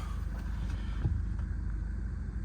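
A 2012 BMW 520d M-Sport F10 diesel engine catches with a brief bump and settles into a low, quiet, steady idle rumble heard from nearby.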